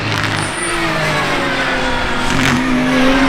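A Sportec Racing race car engine drones loud and close, holding a steady rumble with a slight rise in pitch toward the end, during a drift day on snow and ice in Zernez.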